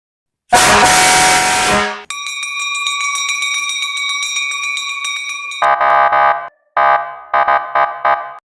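A loud siren-type electronic vehicle horn blares alone: a sustained harsh tone, then a steady shrill pitched wail, then several short repeated bursts.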